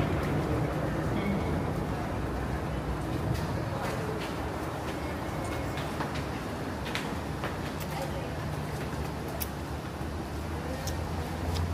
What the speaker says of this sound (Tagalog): So, ito na yung Harbor Front